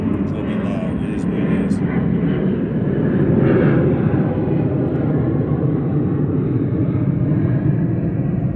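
Airplane flying over close to an airport, a loud, steady broadband roar that stays heavy and continuous from start to finish.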